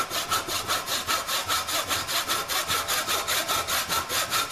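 An MDF board is sawn by hand for a vacuum-forming mould, giving a fast, even rasp of about twenty close, loud strokes with no voices.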